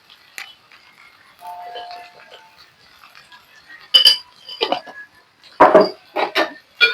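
A spoon stirs ivy gourd curry with chili powder in a pan, giving sparse metallic clinks and scrapes, quiet at first and then several louder knocks against the pan near the end.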